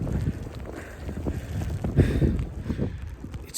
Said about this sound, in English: wind is strong.